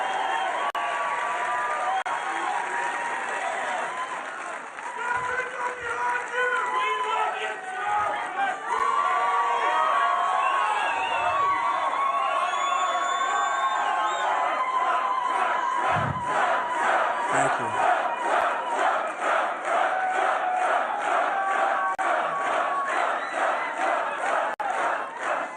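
A large crowd at a Donald Trump rally in Las Vegas, Nevada roars with sustained cheering, whoops and applause. The noise is loud and continuous throughout, with chanting voices rising and falling in a dense wall of sound.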